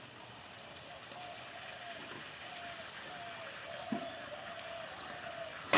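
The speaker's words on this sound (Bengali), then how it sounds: "পাঁপড় ভাজছি" Potato papad frying in a pan in a home kitchen, giving a steady soft crackling sizzle throughout with a few faint pops and no talk over it.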